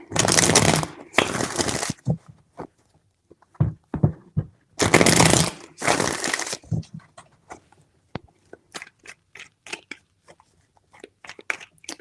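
Tarot cards being shuffled close up in several loud riffling bursts, followed by a scatter of light taps and clicks as the cards are handled and set down; no talking.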